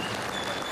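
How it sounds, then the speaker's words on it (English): Law enforcement audience at a national top cops award event breaking into steady, dense applause, a continuous wash of clapping filling the whole moment. "The audience of law enforcement erupted in applause"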